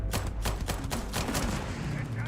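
Rapid gunfire in the space shooter game Starfield, a dense run of sharp, close shots in quick rhythmic bursts with a heavier blast mixed in, while a voice talks faintly underneath.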